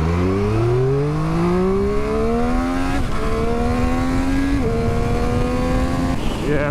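A 2023 Triumph Street Triple RS motorcycle accelerates hard through the gears, its engine note climbing in pitch, dropping at each shift and climbing again, loud and close throughout.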